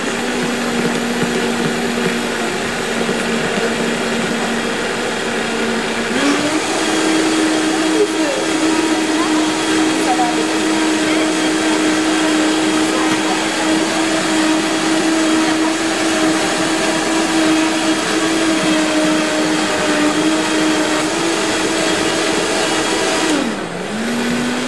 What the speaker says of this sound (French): Alors, ce qui est bien avec le Vitamix, c'est qu'on arrive quand même à quelque chose de très onctueux.